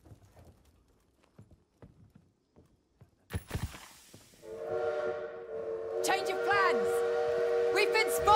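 A train horn sounds as a train pulls away, in a World War II game setting. The sustained horn tone starts after about four seconds and runs to the end. It follows footsteps and rattling, and it grows louder in the last few seconds.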